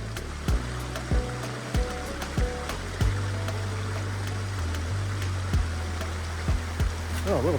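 Flowing water of Red Run, a small woodland stream in the Pennsylvania Wilds in fall, a steady close babble with a few sharp knocks and thumps over it.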